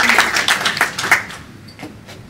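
Audience applause at a panel discussion: a dense burst of clapping for about a second, then thinning to scattered single claps that fade out. Moderately loud, with no speech over it.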